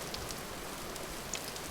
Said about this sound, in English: whoever figured out the rain sound design of this game is it needs a raise